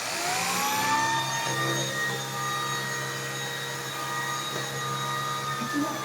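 A Shark Stratus vacuum cleaner switches on and runs steadily, a close, loud whining motor drone with a high tonal hum holding through the whole stretch.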